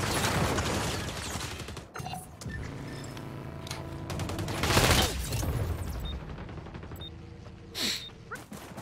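A few distant rifle shots in the online shooter XDefiant, sharp reports spaced out over a steady background of game noise and movement, fairly quiet overall.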